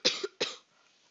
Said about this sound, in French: Ah, c'est vraiment chiant cette toux.